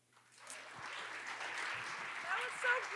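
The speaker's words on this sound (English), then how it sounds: "let's give her a big round of applause" Audience applause at the ED Talks food-industry event in Denver: faint, distant clapping that swells gradually over three seconds with no speech on top.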